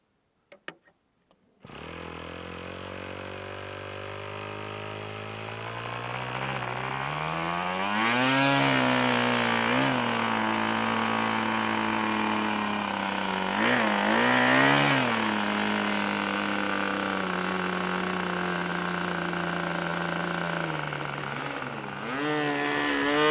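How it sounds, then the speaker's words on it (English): Aeromaster model airplane with a small glow engine, its needle valve hard to set: a steady, high-pitched buzzing drone that starts abruptly after a few clicks, then rises and falls in pitch several times as the throttle changes, loud and close throughout. "I had a lot of trouble getting the needle valve set on this engine. It kept quitting at idle."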